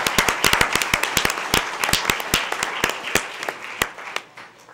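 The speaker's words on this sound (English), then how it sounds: "Let's give another round of applause." A school board meeting audience claps, sharp individual hand claps overlapping in a lively burst that thins out and fades toward the end.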